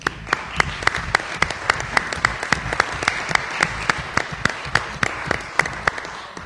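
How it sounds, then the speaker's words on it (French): Municipal council members applauding a unanimous vote to name a street, a modest room of sharp, individually distinct hand claps in a quick, fairly even patter, close and without talk. "Je crois qu'on peut même applaudir."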